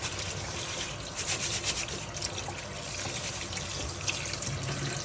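Tap water runs steadily into a sink while rice is rinsed and stirred by hand to wash off the starch, a continuous close splashing and rubbing with no talk.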